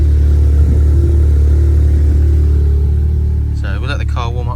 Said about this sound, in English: The car sounds quite raspy on startup